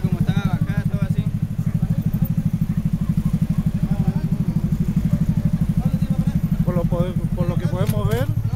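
A motorcycle engine, forced so that it starts without a key, runs at a steady, loud, close idle with a rapid even throb throughout, while voices talk over it.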